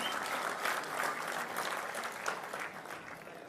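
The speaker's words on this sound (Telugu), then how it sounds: "గట్టిగా చప్పట్లు కొట్టి అందరూ ఈ స్థాయికి రావాలని కోరుకుందాం." An audience claps loudly at a state minority welfare day award ceremony in a large auditorium, producing dense sustained applause with no break.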